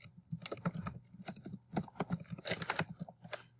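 Typing on a computer keyboard, close and fairly quiet, with irregular clusters of crisp key clicks separated by short pauses.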